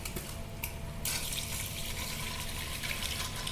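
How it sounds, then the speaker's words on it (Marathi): Water is drained off soaked wheat, a steady close splashing and trickling pour that continues without pause and with no speech. "ते असं आपण पाणी गाळून घेणार आहोत"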